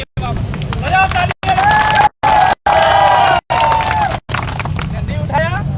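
A crowd cheers and claps at a protest sit-in outside the Udaipur collectorate against UIT/UDA expansion. Raised voices and shouts sound loud and close, with the noisy roar cut by several abrupt silent breaks.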